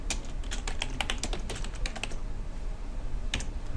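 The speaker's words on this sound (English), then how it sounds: "To add text, you start typing." Typing on a computer keyboard, a quick close run of clicking keystrokes that pauses briefly near the end and then gives a short final burst, with no voices.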